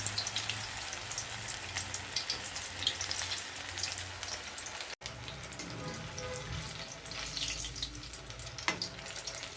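Flattened banana vadai frying in hot oil, a continuous bubbling hiss that holds steady throughout with a brief break midway and a faint clink near the end.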